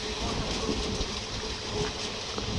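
A passenger train runs on the Khordha to Berhampur line, a steady loud rumble with faint wheel clatter heard from inside the coach, no talking.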